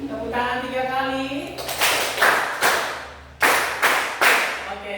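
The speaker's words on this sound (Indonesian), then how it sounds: "Tepuk tangan 3 kali." A classroom of students claps hands in three loud, sharp group bursts spaced about a second apart, following a stretch of a teacher's spoken instructions.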